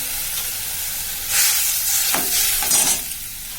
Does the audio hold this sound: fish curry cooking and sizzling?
yes